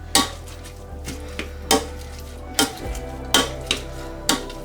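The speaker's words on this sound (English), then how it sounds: "my turnip's cooked, so I'm going to mash that up" Cooked turnip being mashed in a pot, heard as a series of about eight evenly spaced thuds and clatters of the masher against the pot over a low background hum, with no talking.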